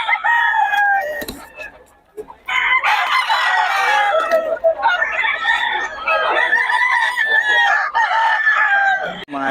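Chickens and roosters in Bocaue crow and cluck loudly and close by, with overlapping calls filling most of the stretch and one short lull; a voice may be faintly present underneath.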